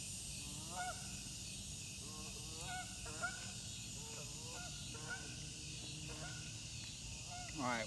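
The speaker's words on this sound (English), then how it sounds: "Geese." Several geese honk at a disc golf course at dusk, their repeated nasal calls fairly distant and overlapping over a quiet outdoor background.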